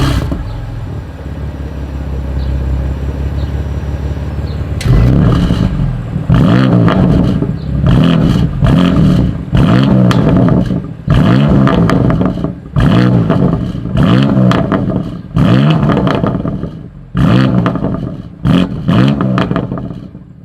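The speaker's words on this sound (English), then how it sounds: "Here is that exhaust clip." A 2020 BMW M2 Competition exhaust idles at first, then snaps through a run of sharp, loud revs with brief gaps between blips, close and alone with no talking.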